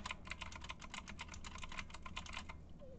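Rapid, fairly quiet clicking of computer keyboard keys in an even run for about three seconds over a low background hum.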